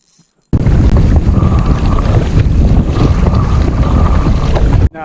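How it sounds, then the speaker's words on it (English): Strong wind roars into the microphone outdoors on the water during a summer redfish fishing trip, loud and steady, cutting in and out abruptly, with no talking. "It is windy out here, but it's not too bad."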